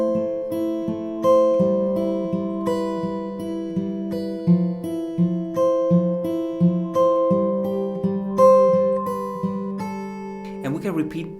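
Fingerpicked acoustic guitar works through a ukulele-style chord progression with a melody woven through the chords, steady plucked notes up close, finishing with a quick strum and brief string noise.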